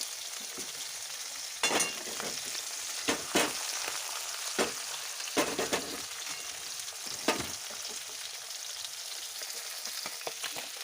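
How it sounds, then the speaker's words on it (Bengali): Thinly sliced eggplant and potato frying in a pan, a soft continuous sizzle with a few sharper spatters and stirring bursts, fairly quiet and close. "এটা একটু সুন্দর ভাজা হোক।"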